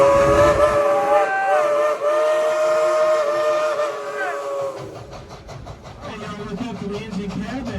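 The steam whistle on Dollywood's Engine 70 locomotive gives a loud, sustained tonal blast at the theme park, then trails off into the chuffing and rumble of the train.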